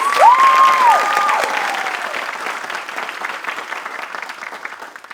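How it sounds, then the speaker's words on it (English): Audience applause at a Bharatanatyam arangetram dance performance, with a crowd clapping loudly and densely at first, then gradually thinning and fading over a few seconds. "how we could give her another round of applause"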